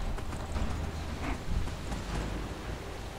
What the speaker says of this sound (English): Come on, stupid horse, go.